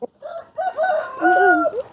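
A rooster kept at a village house crows once, close and loud, in a long rising and falling call lasting about two seconds with no talk over it.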